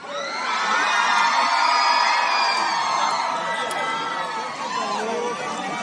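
A concert crowd at a summer party show screams and cheers loudly and continuously, a dense roar of high voices and whoops that swells and holds for several seconds.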